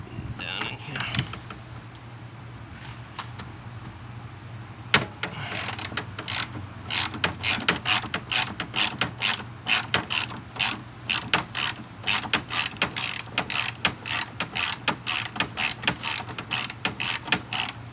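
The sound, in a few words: ratchet with extensions turning a headlight bolt on a Toyota Avalon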